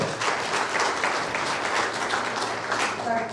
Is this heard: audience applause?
yes